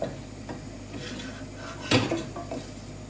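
Onion cooking over medium heat in a pan while a utensil stirs it, giving quiet scraping and clinks of metal against the pan, with one sharper knock near the middle over a faint background.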